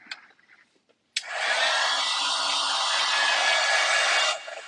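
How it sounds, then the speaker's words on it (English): A heat gun blasts on abruptly and roars steadily for about three seconds, drying mica pigment ink on a craft project, close and loud before cutting off. "we'll dry this with the heat gun quickly"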